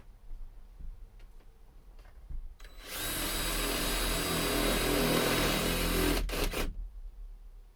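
A power drill drives a self-tapping screw into the ceiling of a Ford E350 van under conversion, starting after a few faint knocks and whirring loudly and steadily for about three seconds before stopping abruptly, close by with no talk.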